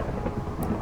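Thunderstorm in the Minecraft Draconic Evolution mod: a steady low rumble of rain and distant thunder, with a brief high hiss near the end, no voices.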